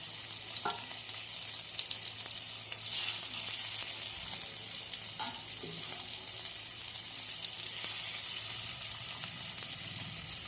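Marinated chicken pieces sizzle steadily in hot oil, a continuous hissing fry broken by occasional clinks and stirring.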